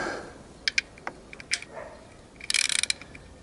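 A ratchet tightens a 17 mm sump bolt into a Helicoil-repaired thread on a motorbike. A few close, separate metallic clicks come first, then a quick burst of rapid ratcheting clicks near the end.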